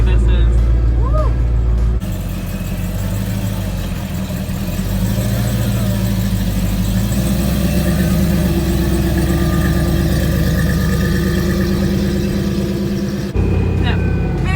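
Ringbrothers Javelin with a 4.5 liter Whipple supercharger idling up close, a loud, deep, steady engine rumble with slight rises in pitch and a lumpy pulse, cut off sharply near the end.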